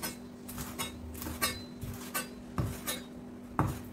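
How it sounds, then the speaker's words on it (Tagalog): A kitchen knife cuts green onion on a board in crisp, evenly spaced taps, about one per half second, close and clear against a faint background hum. "Gayatin ang green onion."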